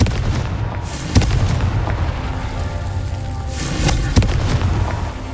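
Confringo fire spell explosions in Hogwarts Legacy, a dense rumbling barrage of booms with sharp blasts at intervals and heavy crackling fire throughout, loud and close.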